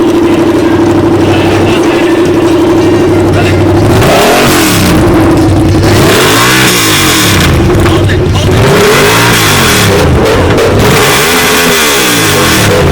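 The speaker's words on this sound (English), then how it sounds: "I think the little girl's gonna rev it right now" Truck engine at a truck meet revving hard in repeated rising and falling surges over a steady idle drone, loud and close, with people talking in the background.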